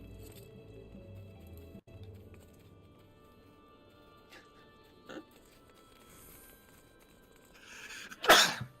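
A single loud sneeze bursts out near the end, close and sharp, after a stretch of quiet game-style background ambience with a few faint clicks, in a Final Fantasy XIV session.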